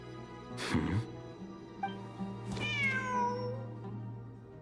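A cat meows in the video game Genshin Impact, two distinct calls, the second longer with a falling, drawn-out tone, over a quiet background hum.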